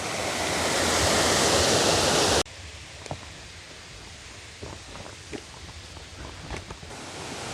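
Little Shickshinny Falls in Shickshinny, Pennsylvania roars as a loud, steady broadband waterfall rush for over two seconds, then drops to a quieter, more distant flow with scattered crunching footsteps on a steep trail.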